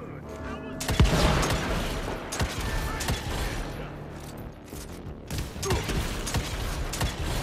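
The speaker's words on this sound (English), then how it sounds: "This guy's trying to shoot me through the window." An enemy fires through a window in the Evil West action game, sharp gunshots cracking in bursts amid mechanical clatter and creaks, with someone talking over the fighting.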